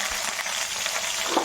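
Onions sizzle steadily in hot oil in a frying pan already holding chana dal, peanuts and dried red chillies, a dense close hiss with no speech.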